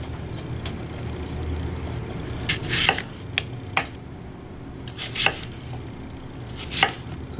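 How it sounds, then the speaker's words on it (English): A knife cuts through a fresh apple on a board in a quiet room, giving a few sharp, crisp slicing chops spaced irregularly over soft background noise. "got this beautiful apple here. I'm going to cut it."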